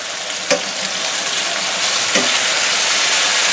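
Chicken breasts sizzling loudly in a skillet just after being flipped, a steady close broadband hiss of frying with a couple of brief clinks from the utensil.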